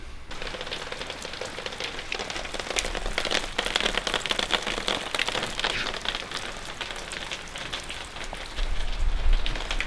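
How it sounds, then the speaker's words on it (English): Heavy rain pours down steadily on a brick-house building site, a dense, continuous hiss of drops drumming on surfaces that swells louder toward the end, with no voices. "it's absolutely dumping it down now. This is the part of the day when it's heavy rain"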